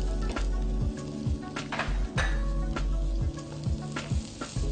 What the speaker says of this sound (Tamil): இப்போ வந்து நம்ம சாப் பண்ணி வச்சிருக்கிற ஆனியனை வந்து இதில் போட போகிறோம். வெங்காயம் இதில் சேர்த்துருக்கோம்.